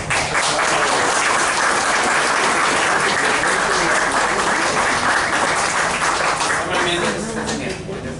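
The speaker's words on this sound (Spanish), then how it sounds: "a cargo del arquitecto Eduardo Aguilar, que recibimos con un fuerte aplauso." An audience at a history lecture gives a loud, sustained round of applause to welcome an architect speaker, a dense wall of clapping that fades slightly toward the end.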